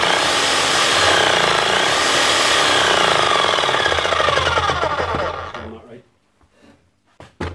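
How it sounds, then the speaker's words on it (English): A Bosch GBH 11 DE rotary hammer runs loudly with a harsh, rattling drive for about five seconds, then winds down and stops, leaving near silence and a couple of brief knocks. "Right, Bosch hammer. This is a GBH 11DE."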